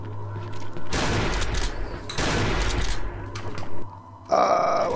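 Gunfire in the horror video game Cry of Fear, loud bursts of shots in two clusters followed by a harsh growling noise near the end.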